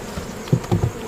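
Honeybees buzz around a hive on a farm, a few short, close buzzes passing within about a second.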